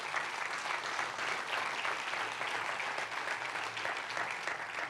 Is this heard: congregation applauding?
yes